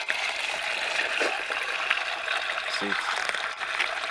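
Water drains steadily from an aquaponics grow bed through its bell siphon on a nature farm, a continuous trickling and gushing rush heard up close, with a brief voice partway through.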